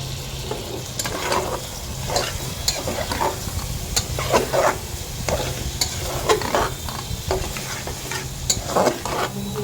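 Liver and lentils sautéing in a hot pan with steady sizzling, broken by repeated scraping stirs of a spoon against the pan throughout, close and continuous with no talk.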